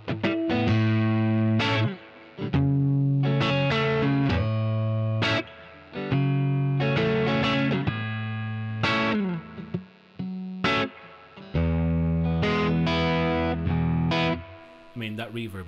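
Electric guitar played through the spring reverb of a Koch Studiotone 20 valve head, loud distorted chords and single notes in bursts with short pauses, a light springy tail behind each phrase.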